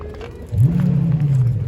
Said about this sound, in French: Quelque chose qui arrive qui fait des gaz.